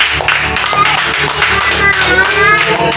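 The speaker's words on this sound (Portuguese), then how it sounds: "A melhor salva de palmas que você pode dar" A church congregation claps loudly and close up in quick, uneven bursts, with voices mixed in beneath the clapping.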